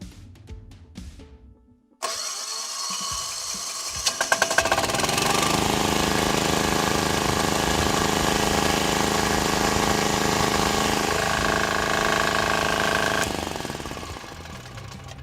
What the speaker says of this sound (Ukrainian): Зараз пробуємо під час обертання двигуна відпустити важіль декомпресора.